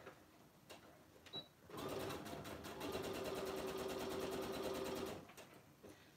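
A sewing machine runs a steady, rapid stitching burst of about three seconds while sewing the seam of a fabric binder cover with pockets, close and fairly quiet, with brief handling sounds before and after.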